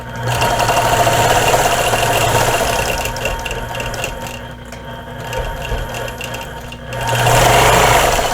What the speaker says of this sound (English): I'm going to go ahead and stitch in the ditch to get up to the center of this one